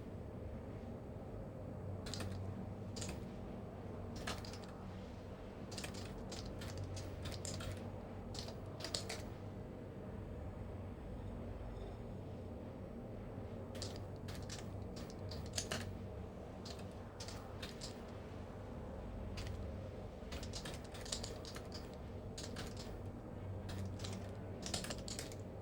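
Rapid bursts of typing on a computer keyboard come in clusters of crisp key clicks, separated by short pauses, over a steady low fan-like hum throughout.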